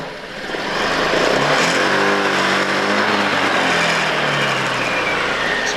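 A small engine, apparently a motorcycle, is throttled up and held at a steady high rev during idle and RPM adjustment. It rises over the first second, then drones loud and close without talk.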